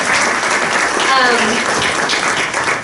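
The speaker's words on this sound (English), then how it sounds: "Let's have just a quick round of applause for our panelists" Brief round of applause for panelists at a public policy event on Illinois, steady, close clapping with a voice speaking briefly over it.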